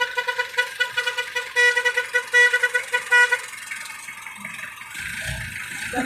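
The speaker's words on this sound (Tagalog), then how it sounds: "Ganda pala ng busina." A car horn honks repeatedly in short rhythmic toots, loud and close, then gives way to a low rumbling noise.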